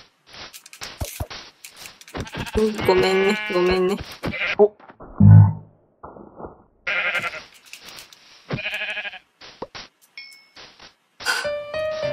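Sheep bleat in Minecraft, the blocky video game, on a hardcore survival world: several short synthetic bleats and game effects come in bursts, with a person talking in between.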